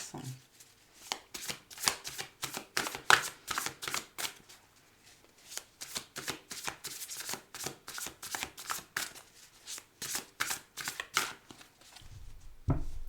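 Tarot cards shuffled by hand in a long run of crisp riffling bursts, fairly close and steady, ending with a brief cut of the deck.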